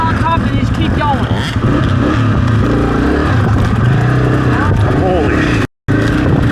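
A 250F dirt bike climbing over a two-foot log during off-road training, its engine revving loud and close with rising and falling pitch, voices talking over it and a brief dropout near the end.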